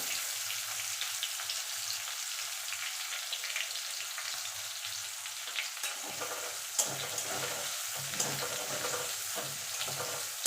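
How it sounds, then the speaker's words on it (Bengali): Chopped onion frying in hot oil for a tilapia curry, a continuous dense sizzle that runs throughout, with scattered soft stirring scrapes in the second half, close and moderately loud, no talking. "এবার ভালো করে ভেজে নেব লাল লাল করে"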